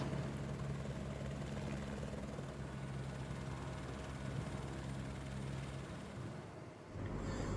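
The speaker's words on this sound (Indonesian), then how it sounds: "Proses evakuasi pun harus dilakukan dengan menggunakan helikopter." An evacuation helicopter at Puncak Carstensz (Carstensz Pyramid) makes a continuous, fairly loud rotor and engine drone that holds steady, then dips briefly and returns near the end.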